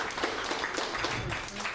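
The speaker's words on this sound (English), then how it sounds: "Clap for that" Comedy-club audience clapping in response to a comedian's prompt, a dense steady patter of many hands filling the room at moderate loudness, with no clear speech over it.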